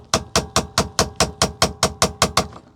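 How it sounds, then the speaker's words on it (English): Hammer strikes a chisel to walk a headless screw loose on the ignition lock cylinder of a 2001–2002 Honda Odyssey, giving twelve sharp metallic taps in an even, quick rhythm, close and clear with no talk. "The most effective way I found to remove these headless screws is to walk it off with a chisel and a hammer."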